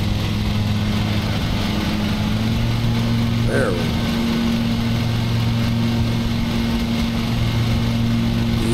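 Lawn mower engine running in Lawn Mowing Simulator, a steady droning hum that holds throughout at an even pitch, loud and close, with someone talking briefly over it.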